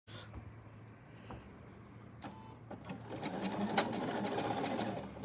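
Bernina sewing machine stitching under foot-pedal control while couching, a faint hum that starts, picks up and runs steadily as a rapid mechanical whir, with some clicks and handling noise.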